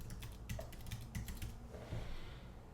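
Quick bursts of typing on a computer keyboard while writing clinical notes, close and fairly quiet, with a short pause in the middle before another run of keystrokes and no talking.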